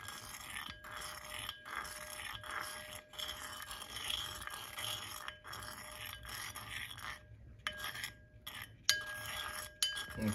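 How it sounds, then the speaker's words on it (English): Pennies are stirred in a table salt and vinegar solution, giving a near, quiet, continuous run of scraping and clinking with short pauses, and no voices. "we're just going to stir it up"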